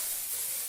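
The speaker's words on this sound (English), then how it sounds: "and add a bit of spray" Hairspray hisses onto curled hair in one short, close burst that fades quickly.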